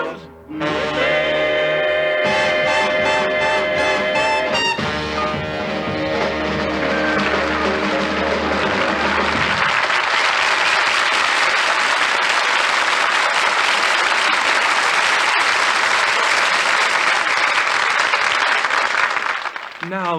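Audience applause on a radio comedy show bursts out as a song ends, a loud dense clapping wash that takes over from the closing music and keeps going strongly to the end.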